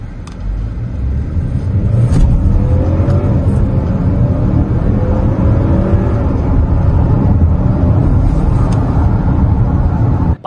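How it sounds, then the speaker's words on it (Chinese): A 2022 Changan UNI-T car with an 8-speed automatic accelerating hard at full throttle, engine drone rising steadily under constant loud road and cabin rumble. "来脚地板油走"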